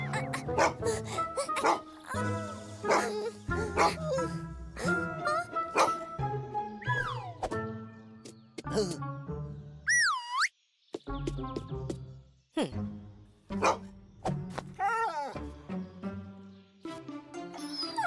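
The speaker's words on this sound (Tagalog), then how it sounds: "Biglang sumugod sa kanila ang isang galit na aso." An angry dog in an animated children's story barks and yips in repeated bursts, mixed with music and cartoon sound effects, with a rising whistle-like tone in the middle.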